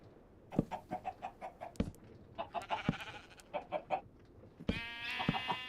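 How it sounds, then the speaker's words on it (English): Chickens in the Minecraft video game cluck in quick repeated bursts, close and clear, with a few sharper squawks and sudden pops mixed in. "Right, chickens."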